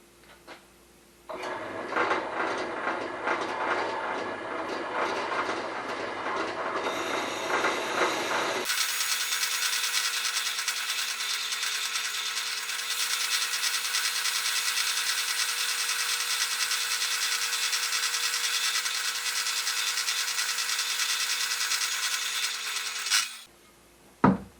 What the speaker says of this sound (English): So we're going to start with the hole saw.